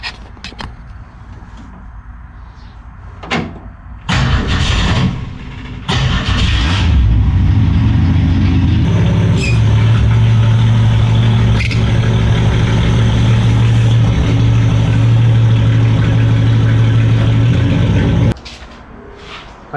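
A 1965 Ford Mustang restomod engine cranks a few times, catches with a roar, then settles into a steady, loud idle before shutting off.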